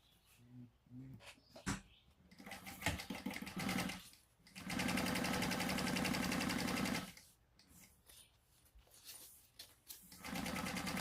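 A sewing machine bastes along the top edge of a fabric shoulder bag, running in two steady bursts of rapid mechanical stitching, with a dog whimpering and small handling noises in the pauses.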